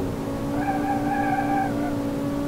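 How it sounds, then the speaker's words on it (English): Front-wheel drive turbocharged five-cylinder hot hatch tires squealing in a BeamNG driving game, a loud sustained tonal screech rising and holding over engine drone before tapering off. "Front-wheel drive burning tires is always a adventure."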